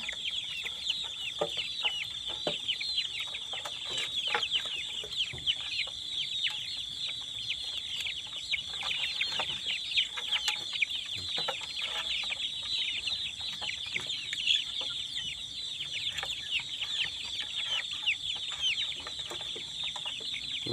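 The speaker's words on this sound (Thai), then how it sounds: "อยู่ข้างนอกก็มีไก่" Chickens cluck and chatter continuously at a moderate distance, a busy overlapping flock noise with no voices.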